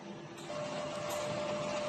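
A DTF printer runs with a steady mechanical hum and whir near its print head area. The sound grows slightly louder and fuller after a brief start, then holds continuous with a faint tonal whine.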